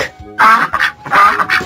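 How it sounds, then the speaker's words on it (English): A duck quacks in a kids' animal puzzle game, with four quick nasal quacks in two close pairs, loud and near. "Duck."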